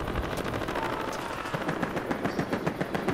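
Battlefield gunfire rattles nonstop in dense, overlapping automatic bursts, with a loud, continuous barrage of shots and explosive thumps filling the clip.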